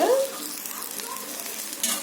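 Oil sizzles and crackles in a pan while vegetables are fried for brinjal chutney. The sound is close and steady, with a louder burst at the start.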